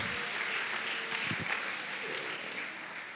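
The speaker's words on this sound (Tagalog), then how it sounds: "Dagdagan pa natin yung palakpak ngayon." A church congregation claps in praise, a continuous moderate wash of applause with faint speech underneath.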